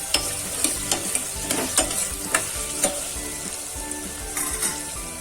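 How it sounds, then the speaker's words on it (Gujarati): Vegetables, including muskmelon pieces for a Kathiyawadi shaak, sizzle steadily in hot oil, with a continuous frying hiss broken by repeated sharp scrapes and taps of a spoon stirring the pan, close and alone without talk. "તેલમાં હળહળવા દેવાની છે"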